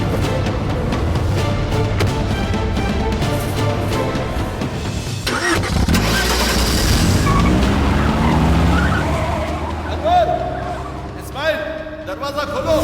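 Car pulling away and skidding in a dubbed Malayalam action film scene: a loud engine revving and tyres screeching with dramatic music and effects, a sharp whoosh midway, with voices speaking over it.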